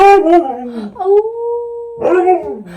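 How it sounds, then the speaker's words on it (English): A dog howls loudly and close by, with long, wavering tonal wails separated by a short steady held note, and no speech over it. "we're just gonna ignore the howling in the back"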